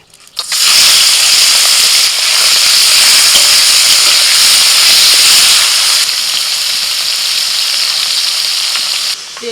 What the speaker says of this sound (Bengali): প্রথমে চিংড়ি মাছ ভেজে নিচ্ছি।